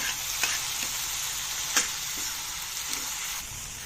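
About 100 grams of tomato pieces sizzle steadily in a pan for a traditional red ridge gourd dal, with a few brief scraping stirs of a spoon rising over the constant frying hiss, close and alone.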